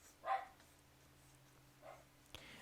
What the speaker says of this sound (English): I apologize if you hear that barking in the background. That is my wife's family dog.